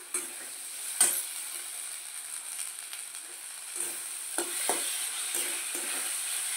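Carrots and chillies sauté in a pan for cheese butter pasta, a steady soft sizzle with a few sharp scrapes and clinks of a spoon stirring, no voices.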